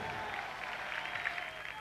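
An audience at the Festival de Viña del Mar claps steadily, a dense wash of applause heard from a distance at a low, even level.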